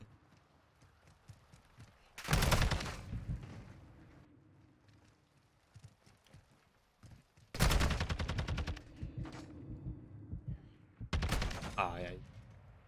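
Three loud bursts of automatic gunfire ring out in a long-range Call of Duty gunfight, separated by quieter gaps with faint background game sounds.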